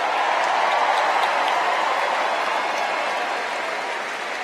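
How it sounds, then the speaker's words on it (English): A large circus crowd at the final Ringling Bros. and Barnum & Bailey performance applauds in a dense, steady roar of clapping that holds loud and even throughout, easing only slightly near the end. "Give them a round of applause"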